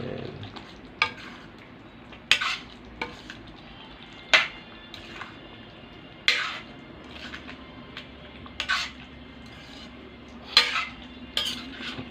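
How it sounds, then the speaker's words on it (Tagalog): Beef kulma, a Filipino Tausug dish, stirred in a pan: sharp metal clinks of a spoon against the pan recur every second or two over a faint, steady sizzle, close by with no speech. "haluin lang ho natin"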